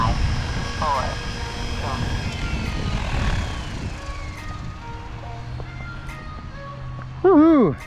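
A SAB Raw 700 RC helicopter flies with a steady rotor and motor whine that winds down and fades, while a voice speaks over it and a brief whistle sounds at the end.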